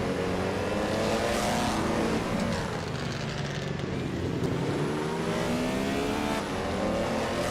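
1950 Ferrari 375 racing cars roar off the start at Circuit Polar Magnac in a racing video game, a dense, loud and continuous engine drone with overlapping revs sustained throughout.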